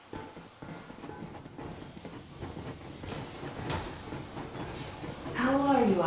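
The Yermak steam locomotive in the Metro Exodus video game pulling away at full steam; a steady rumbling, hissing train noise builds and grows louder, ending in a sharp wavering tone near the close, with no talking.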